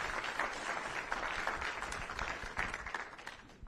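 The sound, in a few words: audience applause at a retirement ceremony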